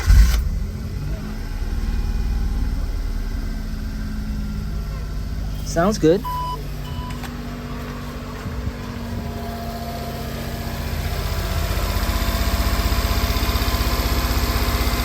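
A Honda Z engine fresh from a tune-up with new oil, filter and spark plugs starts and settles into a steady idle, a close, continuous mechanical drone with people talking over it.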